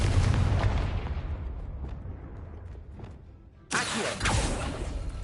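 A Confringo blasting spell in Hogwarts Legacy: a heavy, booming explosion rumbling and fading away, followed by a second sharp burst and a noisy rush.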